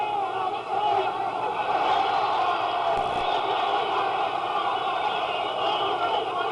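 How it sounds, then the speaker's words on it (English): Boxing arena crowd roaring during round twelve of a Bob Foster versus Jorge Ahumada bout, a dense, steady wall of cheering and yelling that holds loud throughout, with a commentator talking over it. "The crowd comes alive."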